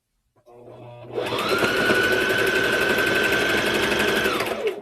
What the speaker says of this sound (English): after a few stitches, move it back and then continue stitching all the way down